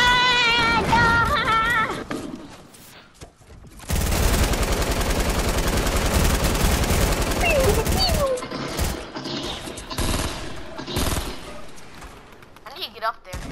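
Rapid gunfire bursts in the video game Fortnite, a dense sustained stretch of automatic shooting in the middle with scattered shots around it, loud and close, with a player talking over parts of it.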